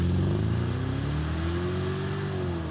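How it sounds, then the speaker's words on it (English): A BMW X6 engine, warmed to operating temperature after a valve guide seal repair, revs steadily and loudly, its rising harmonic drone sustained close up with no talk. "We'll rev it up."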